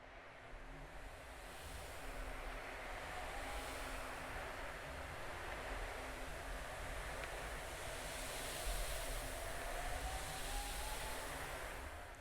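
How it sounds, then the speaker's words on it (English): Redesigned, quieter wind ambience for the Celeste video game, a hushed continuous airy wash with a faint sustained low hum and occasional thin whistling sweeps, gently swelling. "it still, you know, has that sense of ambiance, that wind"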